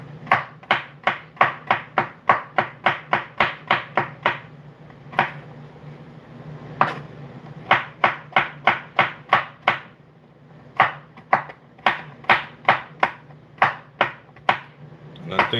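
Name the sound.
cutting coconuts for Jamaican drops pastry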